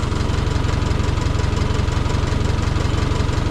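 A Farmall Super C tractor engine runs at a fast high idle, a steady, loud, evenly pulsing chug with rapid regular firing beats close to the microphone.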